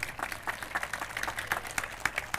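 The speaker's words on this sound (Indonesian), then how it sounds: "Biar meriah, kita tepuk tangan yang meriah" Faint, scattered clapping comes from guests at an evening event with tourism association invitees, a light patter of applause heard at a distance.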